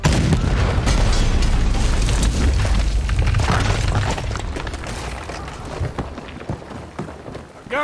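Cannon fire booms in Red Dead Redemption 2 during a ship fight, with heavy low blasts and scattered pops and impacts that thin out toward the end of a loud, chaotic battle.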